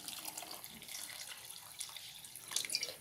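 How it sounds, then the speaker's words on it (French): Water is poured into a pot of bissara, a fava bean soup, as a soft running, splashing trickle that stays fairly quiet throughout and swells slightly near the end. "je préfère ajouter de l'eau parce que je pense que j'en avais pas mis assez"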